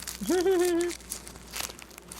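Tightly packed fashion jewelry packaging crinkles and tears in short, close, rustling bursts, following a brief vocal exclamation.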